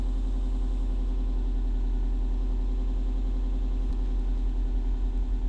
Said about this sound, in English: I've let the engine warm up a fair bit